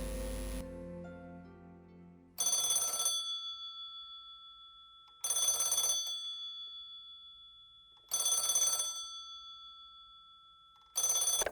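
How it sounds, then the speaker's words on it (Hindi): An old-style telephone bell rings four times in evenly spaced bursts, loud and close, after a brief musical lead-in. "तभी एक फोन की घंटी ने उनकी नींद उड़ा दी।"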